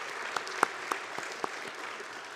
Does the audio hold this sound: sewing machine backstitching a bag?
no